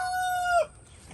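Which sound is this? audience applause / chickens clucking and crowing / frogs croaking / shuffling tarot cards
chickens clucking and crowing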